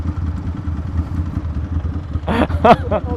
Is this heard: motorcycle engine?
yes